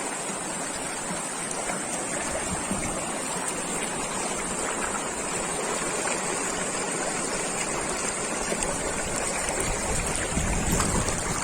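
Dugarwadi waterfall near Nashik pours in a steady, loud, broadband rush of falling water that continues without pause.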